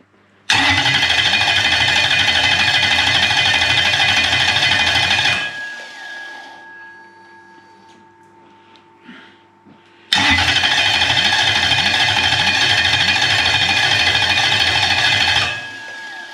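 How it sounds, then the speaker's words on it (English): A Toyota 1UZ V8 engine with stock coils and leads cranks and roars to life, runs loudly for several seconds, cuts out briefly, then starts and roars again just as strongly. "he's going to fire up this engine."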